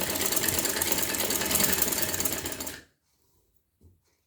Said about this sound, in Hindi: एंड यहाँ से भी हम सिलाई कर देंगे